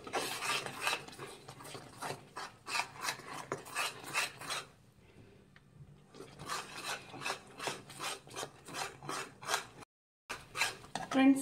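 A spoon scrapes and rasps as it stirs a thick jaggery and rice flour mixture for kajjaya in a pan over a medium flame, in repeated rhythmic strokes with a brief pause midway.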